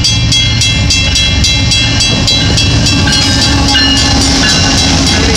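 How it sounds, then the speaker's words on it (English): A northbound Union Pacific intermodal freight train passes close by in Sacramento, a loud, continuous rumble of rolling cars with steady rhythmic wheel clacks and squealing metallic tones throughout, with no talking. "Northbound Unit Pacific on Intermodal."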